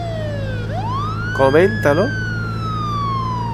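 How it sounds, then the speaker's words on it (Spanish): Police siren from the game State of Decay Year One wails in a long rising and falling sweep, loud and close, while someone briefly speaks over it. "Es que me gusta la sirena."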